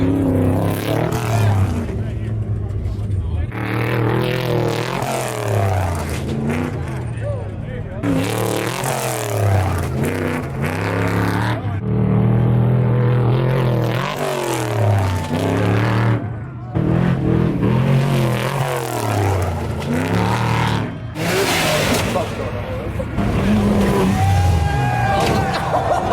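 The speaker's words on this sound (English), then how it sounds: "We watched some trucks jump" Trucks revving hard and jumping during an off-road night run, engines roaring loud and close with rising and falling revs, while people shout and talk over the noise throughout.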